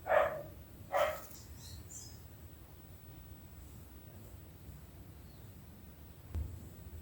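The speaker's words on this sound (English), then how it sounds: "my dogs are barking" Dogs barking indoors, two sharp barks about a second apart, then quiet room tone and a faint low thump near the end.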